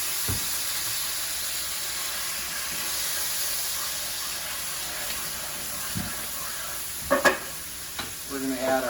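Soy sauce poured into a pan of chicken for a sweet and spicy dish, a steady sizzle and hiss with a few sharp clatters and stirring scrapes toward the end.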